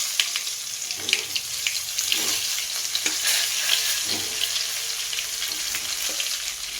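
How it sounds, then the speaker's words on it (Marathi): Masala-stuffed brinjals sizzling in hot oil with cumin and turmeric, a steady close crackle with soft stirring scrapes and no talking. "ही मसाला भरून घेतलेली वांगी आहेत ना तेलामध्ये टाकून घेतलेली आहे"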